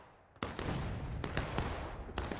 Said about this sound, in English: Kansas, they love their fireworks.